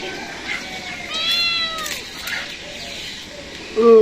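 A cat meows several times in drawn-out, rising cries, close by, ending with a louder meow.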